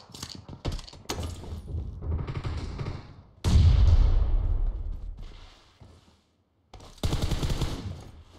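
Shotgun gunfight in a video game: loud, sharp blasts in quick bursts separated by brief pauses, close and punchy, with no talk over them.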